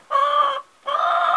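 Two hoarse, drawn-out calls from a young rooster crowing close by, each about half a second long with a short gap between.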